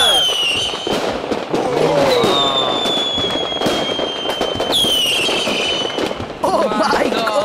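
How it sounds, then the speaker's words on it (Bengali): A huge fireworks show firing 4,000 shells at once, with loud dense crackling, whistling rising shells and bursts, under excited voices throughout. "টাইলার, যখন তুমি ফায়ার প্রেস করবে তখন তুমি লঞ্চ করবে 4000 সেলস"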